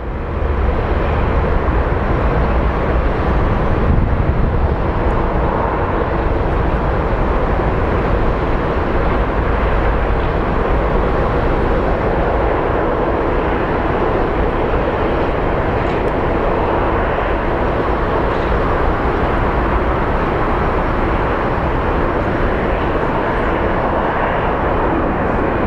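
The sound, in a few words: Boeing 767 airliner taking off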